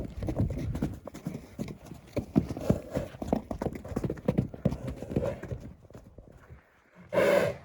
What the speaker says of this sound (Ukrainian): Знімаю вам ще своїх кобил.